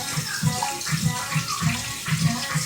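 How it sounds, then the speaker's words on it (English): Liquid glugs and splashes as vinegar is poured into a plastic bag in a kitchen, a close watery trickle with rhythmic gurgling pulses. "And I'm gonna pour some vinegar in there."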